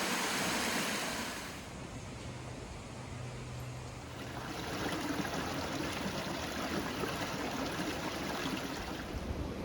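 Babbling brook in Cotwall End Valley, water flowing steadily with a soft continuous rush and trickle, close and even throughout, no talking.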